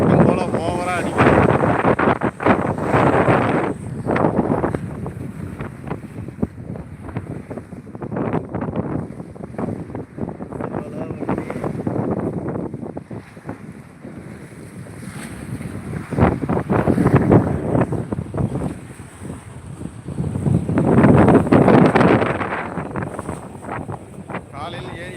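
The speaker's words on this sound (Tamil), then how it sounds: "காற்று வழக்கம் போல் ஓவராக அடிக்குது." Strong, gusting wind roars across the microphone in heavy buffeting bursts, with a broad rumbling rush that swells and eases throughout, on the open shore of Veeranam Lake.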